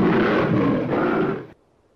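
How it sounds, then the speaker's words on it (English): A Siberian tiger lets out a loud, rough roar lasting about a second and a half, then cuts off abruptly into near silence. "Our roars are very loud."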